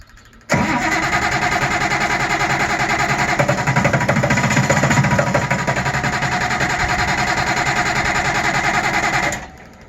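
An engine on a Honda ATC 190 XT turning over continuously for several seconds, a loud grinding, whirring crank that stops without catching.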